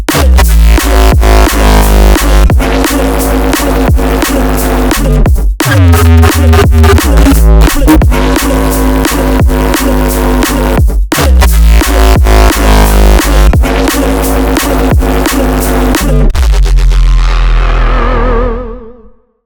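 Heavy, fat, harmonic bass synth patch, built in Serum 2, playing loud rhythmic stabs and sustained growling notes with pitch bends, cutting off abruptly near the end and ringing out.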